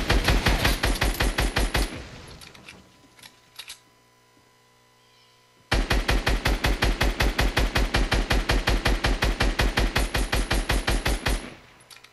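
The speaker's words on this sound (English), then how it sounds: "I actually love this new scar sound, to be honest." SCAR assault rifle fire in Fortnite rattles out in rapid full-auto bursts, a long volley, a brief lull with a few scattered shots, then another sustained burst, loud and alone without talk.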